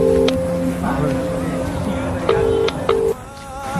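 A mobile phone call is placed, with steady electronic tones and short beeps that break off and restart, while faint talk and background noise run underneath.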